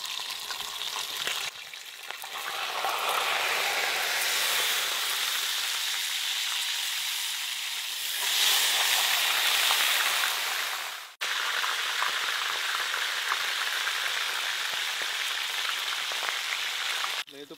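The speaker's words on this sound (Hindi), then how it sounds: "ये तो पूरा अच्छा सा फ्राई हो गया" Rare sea fish frying in oil in a pan gives a loud, continuous hiss and crackle, steady throughout with a brief swell partway and a short break near the end, with no voices.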